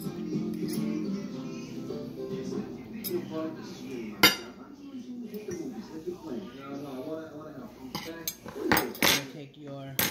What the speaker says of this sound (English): Go ahead and put your spaghetti on a plate.